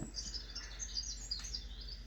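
Small birds chirping and tweeting in quick, repeated high calls, fairly faint and steady throughout, with no talking.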